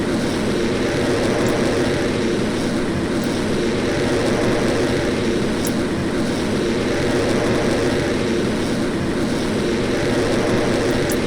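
Powerful rocket engines firing in modded Kerbal Space Program, a steady loud roaring rumble that holds without a break throughout.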